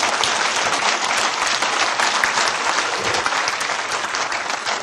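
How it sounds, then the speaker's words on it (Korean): An audience claps loudly and continuously at a religious gathering, dense close applause filling the whole stretch with no talk. "박수도 해야지."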